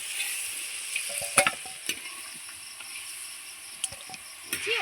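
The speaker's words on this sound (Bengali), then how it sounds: "কিছু সময় আমি মাংসটা ভেজে নিয়ে মাংসটা আমি তুলে নিচ্ছি" Mutton pieces fry in oil in a brass kadai, a close, steady sizzle punctuated by sharp pops and stirring clatters, with a faint insect chirp in the background.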